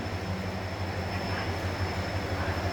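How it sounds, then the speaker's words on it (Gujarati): Inside the Junagadh to Rajkot passenger train, number 9522, a steady rolling rumble of wheels on rails drones on without a break at an even, moderate level. "આખી ટ્રેન પેસેન્જર ટ્રેન છે"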